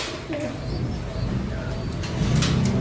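Pigeons coo softly in a loft, low murmuring calls against a faint background hum, with a few scattered clicks and rustles.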